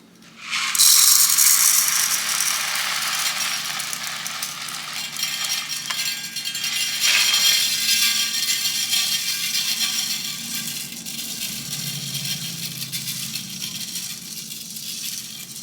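Dry orzo pours onto a very hot, oiled sheet pan, making a loud, close, continuous rattling patter of tiny grains that settles into a steady sizzle and fades gradually over about fifteen seconds, with no talking.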